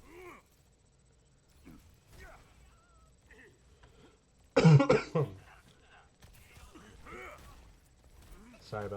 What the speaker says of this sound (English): if I cough a little bit, that's on me